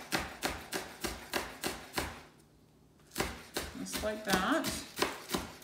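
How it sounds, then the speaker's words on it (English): Green onions chopped with a knife on a cutting board for Korean beef, a steady run of close, crisp knife strikes that pause briefly midway and then resume, with a voice speaking a few words over the later chops. "So we're gonna chop up our green onions."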